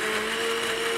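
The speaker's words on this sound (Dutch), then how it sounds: "En dan kunnen we nu gaan blenderen." Kitchen blender whirring steadily at close range as it purées babi pangang sauce, a loud continuous motor roar with a constant whine, no talking.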